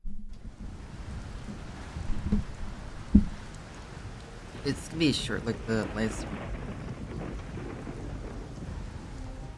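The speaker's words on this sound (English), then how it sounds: "It's a downpour so bad it's like an overturned bottle of heavy water." Steady rain hiss in the Fate/Grand Order video game, with a low thunder thump partway through, all fairly quiet beneath spoken dialogue.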